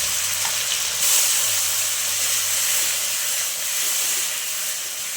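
Spinach dropped into a hot pan with a little chopped garlic gives a steady, loud sizzling hiss with sputtering steam that holds evenly throughout, with no talking.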